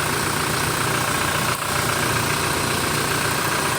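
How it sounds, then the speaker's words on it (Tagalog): Toyota Fortuner engine running with a faulty alternator bearing, a loud, steady, close mechanical drone and whine with a rough, rattling texture that never lets up. "Sira dyan alternator bearing."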